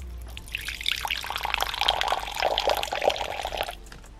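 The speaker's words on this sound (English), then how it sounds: "I have to go in and fill up this guy's water bowl" Water trickles and splashes steadily into a tarantula's water bowl inside its enclosure for about three seconds, close and fairly quiet, with no voices.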